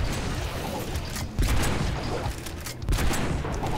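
Bomb explosions burst in Orcs Must Die! Unchained, a rapid cluster of loud, close blasts layered over constant busy game clatter, with two stronger booms about a second and a half apart.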